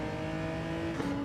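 Toyota Supra race car engine in Gran Turismo 7, a steady high droning whine held close and loud with a slight pitch shift near the end, with no talking.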